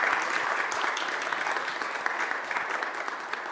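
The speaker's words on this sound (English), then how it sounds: "Please give him a round of applause" Applause at a Columbus City Council meeting, a dense, even round of clapping from the room that holds steady and eases slightly toward the end.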